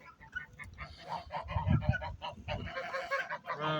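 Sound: geese honking

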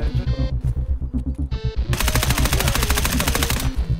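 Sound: gunfire from M4 rifle in video game Escape from Tarkov

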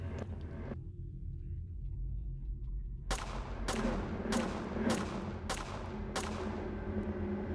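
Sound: gunshots fired in the video game PAGAN Autogeny

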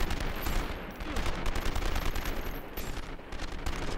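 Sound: gunfire shootout in 24 The Game video game

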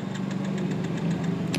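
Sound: motorcycle self-starter cranking, engine not starting

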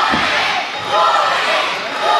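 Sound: wrestling event crowd cheering

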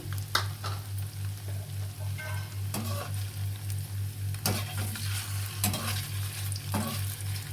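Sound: chicken keema vada ingredients frying in a pan

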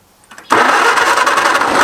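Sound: old tractor engine starting up

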